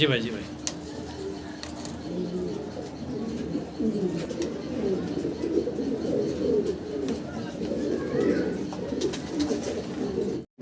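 Pigeons, newly acquired nine- and ten-feather birds, coo in repeated soft, throaty bursts close by, with someone talking over them.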